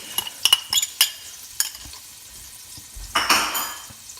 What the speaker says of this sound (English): we just want to get it hot enough to fry the garlic and the chili